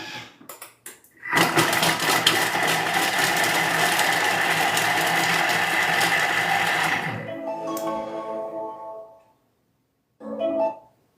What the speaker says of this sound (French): Donc on insère le gobelet. Donc là, ça va mixer en 5 secondes.